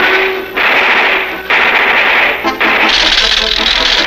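Rapid bursts of cartoon machine gun fire rattle loud and close in several volleys separated by short gaps, with animated voices in the scene.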